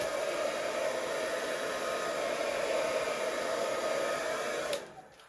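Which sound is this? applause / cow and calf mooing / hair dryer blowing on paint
hair dryer blowing on paint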